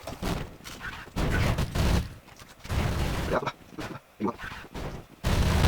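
Grenade blasts and bursts of gunfire in Counter-Strike 1.6, loud, booming shots in several separate clusters with short gaps between them, and voices faintly in the background.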